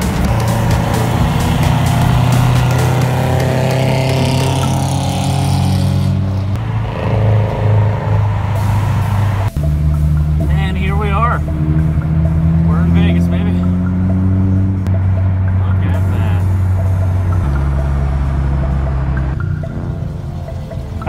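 A car engine hums and revs steadily, its pitch rising and falling, loud and close, with voices talking over it at times.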